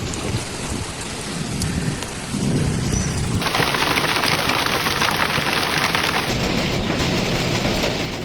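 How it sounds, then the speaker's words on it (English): Thunderstorm in Germany with torrential rain: a steady roar of heavy rain that grows louder and denser midway, with low rumbling thunder underneath and no voices. "powerful thunderstorms swept across several regions, bringing giant hail, torrential rain, destructive winds, and relentless lightning"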